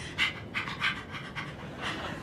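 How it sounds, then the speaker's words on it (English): Rhythmic panting breaths from someone working through a labour contraction in a sitcom birth scene: quick, soft, evenly spaced puffs at close range, with no talk over them. "Right into the breathing."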